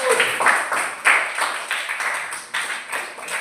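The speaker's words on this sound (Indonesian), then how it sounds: "Tepuk tangan dulu untuk kelompok 1." A classroom of students claps for a presenting group, giving loud, uneven applause built from many overlapping hand claps that rise and dip in bursts over several seconds.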